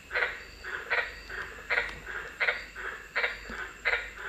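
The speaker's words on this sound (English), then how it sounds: "it's turning out to be a night for frogs" Tree frogs, including white-lipped tree frogs, calling at night in the Daintree Rainforest, a rhythmic series of loud, close, repeated calls about every half second.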